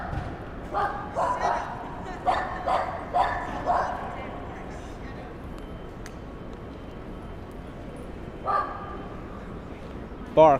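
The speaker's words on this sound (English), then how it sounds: "Bark, bark, bark," A dog barks in short bursts of several yips on a New York City street in the Financial District, mid-range and clear over street ambience, then gives a few more barks after a pause.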